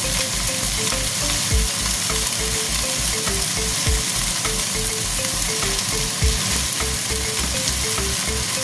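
Jute greens (pat shak) fry in a pan for a rui fish curry, giving a steady, close sizzle with a regular stirring rhythm and no voices over it.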